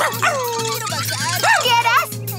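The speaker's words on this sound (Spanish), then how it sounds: "¡Ese perro te comerá vivo!" A cartoon dog barks and yips in short bursts, up close and loud, under busy, excited children's-show speech and background music.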